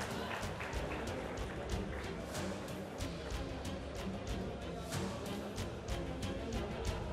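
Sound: audience applause at an awards ceremony

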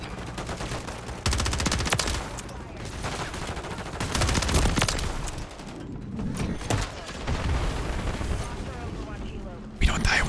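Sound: gunfire in Modern Warfare 3 video game

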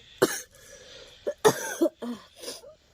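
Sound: coughing

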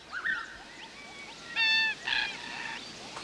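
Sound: cockatoos calling

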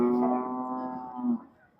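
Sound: cattle mooing at cattle market

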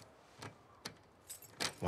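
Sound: keys jangling in The Last of Us Part II video game

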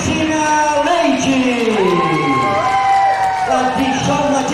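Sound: audience applause and cheering

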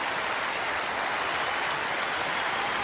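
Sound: audience applause for Vakhtang

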